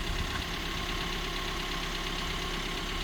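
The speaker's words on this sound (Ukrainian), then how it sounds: "Зараз так, працює машина з боковою дверкою." A Volkswagen Crafter van engine idles steadily with a low, even rumble and faint mechanical knocking, continuous and close, with no talking.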